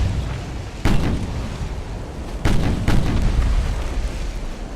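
Battleship big guns boom in the Ultimate Admiral: Dreadnoughts naval game, with several heavy blasts, one near the start and a close pair later, each loud and sudden against a steady rumbling background, with no talking.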